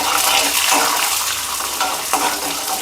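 Chana dal and urad dal frying in hot oil for a chutney, a steady dense sizzle with faint stirring scrapes, close and continuous with no voices.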